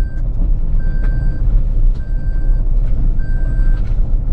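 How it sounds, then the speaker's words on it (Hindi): Inside a moving Toyota Hilux Revo 3.0, the seat belt warning chimes in three evenly spaced, clear electronic beeps over a steady low engine and road rumble. "इसका जो सीट बेल्ट का बीप है ये मुझे बहुत अनाय करता है"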